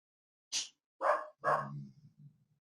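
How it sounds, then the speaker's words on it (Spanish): Dogs bark at a passing bird in three sharp separate barks, the last one dragging into a lower trailing growl-like tail, close and fairly loud against silence. "pasa un pajarito y ladran"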